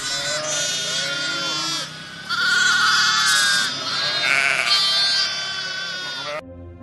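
A flock of sheep and lambs bleats continuously nearby, many overlapping loud calls of varying pitch, ending abruptly with a brief bit of other noise.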